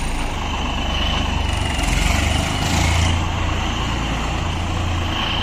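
A tractor engine fitted with an aftermarket turbo whistle runs steadily nearby, a loud rumbling drone with a thin high whine riding on top that swells slightly midway.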